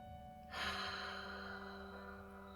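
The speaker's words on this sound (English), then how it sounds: "Breathe that in. Deep cleansing breath again." One deep cleansing breath, a single sudden airy inhale that swells close to the microphone and then fades slowly over a steady low background hum.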